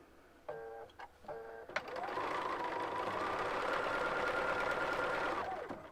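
A sewing machine runs steadily for about four seconds, stitching fabric held in place with a sharp stiletto as the seam nears the presser foot. A few short mechanical clicks come first, then a smooth, continuous hum at moderate loudness.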